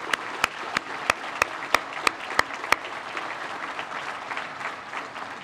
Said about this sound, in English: So let's give a round of applause to the Chamber,